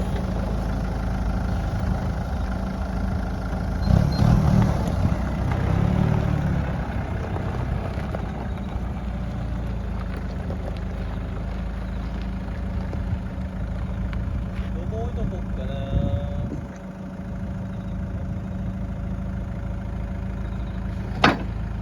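A used Komatsu 2-ton forklift engine idles steadily with a low, continuous rumble, close and even throughout, with a few faint knocks and some background voices.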